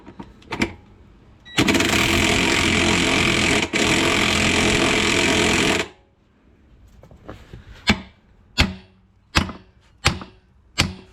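Air impact gun working on a Range Rover Evoque wheel during a tyre repair: a long loud continuous rattling burst, then a run of short sharp hammering blows spaced about a second apart.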